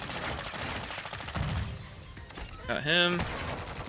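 Rapid video game gunfire, dense repeated shots crackling over the first half, then fading behind a brief exclamation from a player and electronic game tones.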